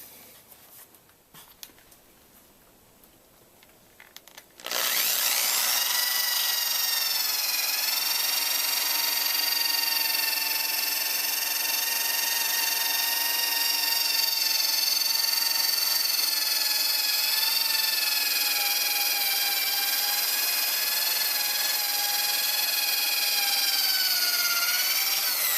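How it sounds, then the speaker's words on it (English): A power sander works a foggy car headlight. Quiet handling noises come first, then the sander starts abruptly into a loud, continuous high whine that drifts slightly in pitch and keeps running to the end. "that was a lot more sanding than I expected"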